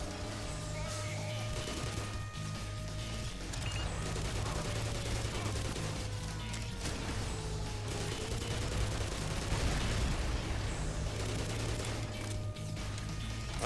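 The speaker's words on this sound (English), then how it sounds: "Bombing runs." Bombing-run explosions and rattling gunfire from the video game Black Mesa, a dense continuous barrage with booming blasts, loud and sustained throughout.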